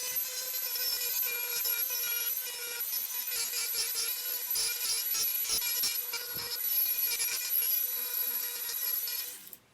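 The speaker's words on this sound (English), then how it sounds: "So let's Dremel it." Dremel rotary tool routing a recess in wood for a child's growth ruler, a steady high-pitched whine with gritty grinding that runs close and loud almost without pause before cutting off at the end.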